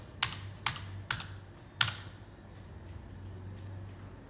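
Four crisp, close computer keyboard presses in uneven rhythm during an entry in Tally accounting software, followed by a few fainter taps over a low hum.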